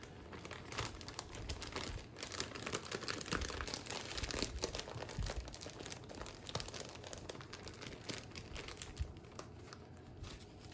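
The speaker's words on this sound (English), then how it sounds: "so now we're gonna stick our D.I.Y sleeves in here. I'm just gonna fold them up." Thin plastic DIY spawn bag sleeves crinkle and crumple steadily as they are folded by hand, a faint, close, continuous rustling with scattered sharper crackles and no voices.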